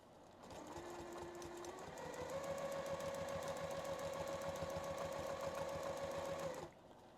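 A sewing machine runs steadily for several seconds, stitching a circle in pebble-style free-motion quilting, with a fast even mechanical whir that rises slightly in pitch partway through, then stops abruptly.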